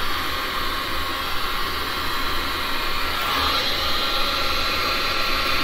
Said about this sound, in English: gotta stand up to get my heat gun positioned the way I want to